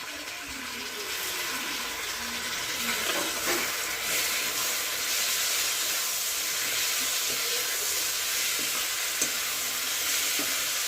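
Eggplant and tomato sautéing in a pan, a loud, steady hiss and sizzle with bursts of steam and occasional stirring scrapes, close and uninterrupted, with no voices.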